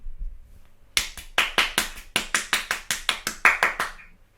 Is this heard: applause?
yes